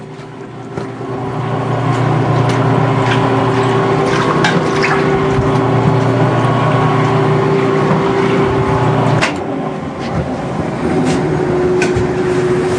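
A large commercial dough mixer kneads pizza dough as flour is added, giving a steady, loud motor drone with a rhythmic churn that shifts briefly near the end, with no talking.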